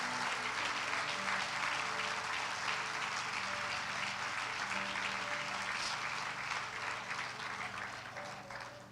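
A church congregation at a Sunday service applauds loudly and continuously, a thick wash of many hands clapping together with a low musical drone underneath, slowly tapering toward the end.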